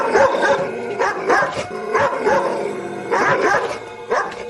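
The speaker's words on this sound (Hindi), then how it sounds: "ये इतने सारे कुत्ते कहां से आ गए?" Many dogs bark together, a loud chorus of overlapping yaps and bow-wows that comes in repeated bursts, with occasional whimpers between them.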